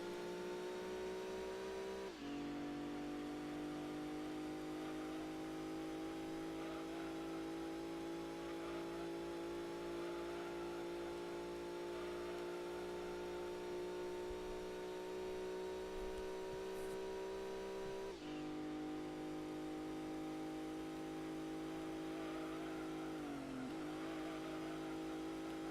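Race car engines in Gran Turismo 2 hold a steady, high whine at top speed without a break. The tone drops briefly twice as the gears shift, then climbs again, loud and close over a constant rush.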